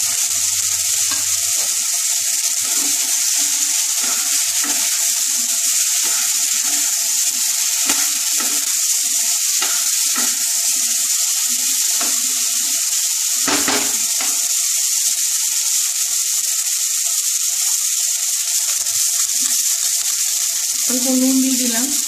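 Okra (bhindi) sizzles steadily in hot oil for a vegetarian bhindi jhal, a constant dense crackling hiss with occasional soft stirring knocks and a brief low thump partway through.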